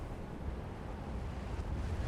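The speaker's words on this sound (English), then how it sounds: "I think that's why the wind is loud" A low, steady wind roars across a mountaintop in the video game Dragon Age: Inquisition, a continuous rumbling rush of moderate loudness with no talking.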